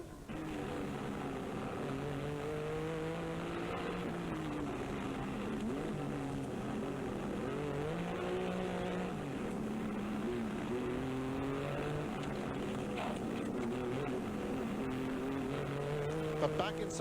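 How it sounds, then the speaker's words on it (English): A 1986 Rothmans Porsche rally car drives a stage of the Circuit of Ireland Rally, heard from a low onboard camera. The engine drones steadily and loudly, its pitch rising and falling with gear changes, under a commentator's voice. "Saeed Alhajri in the second Rothmans Porsche is about to show us the same piece of road from his low-level camera, a first for rally television coverage."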